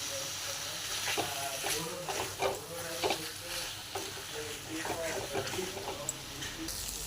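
Spices and yogurt fry together in a pan for a fish curry, an ongoing sizzle and crackle with repeated stirring scrapes, while a voice talks over the cooking at times.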